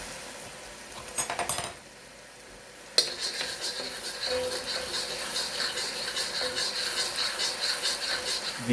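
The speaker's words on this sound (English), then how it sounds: "we'll mix it with the sauce, break it up a little bit, mix it, make sure it's nice and stirred good and well" Shrimp pad thai noodles stirred with sauce in a hot pan, a soft scrape and clatter at first, then a sharp onset of steady close sizzling with light stirring scrapes throughout, no talking.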